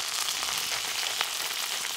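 A whole free-range chicken browns in butter in a pot, giving a steady, dense sizzle with small crackles and pops throughout, close and continuous with no voices.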